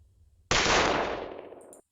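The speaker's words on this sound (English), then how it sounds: "We know what gunshots sound like." A sudden burst of AI-generated rapid gunfire erupts after a brief quiet, a dense rattling volley that fades slightly before stopping abruptly.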